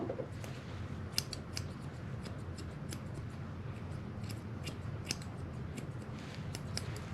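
Small grooming scissors snip a Maltese's hair near the eyes in a steady series of close, crisp clicks over a low background hum, with no talking.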